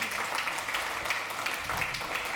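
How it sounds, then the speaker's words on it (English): Audience applause at a TYPO3 Developer Days 2019 conference talk, a short, moderately quiet burst of clapping from a room of listeners. "just give in a round of applause for that"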